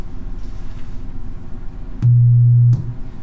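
A loud, steady low sine tone from an electronic music setup starts with a click after a stretch of quiet hum. It holds for under a second and ends with another click.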